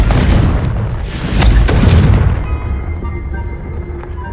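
A Confringo blasting spell erupts in a Harry Potter video game, a loud close boom with a rumbling burst that fades over a few seconds into quieter ambient tones.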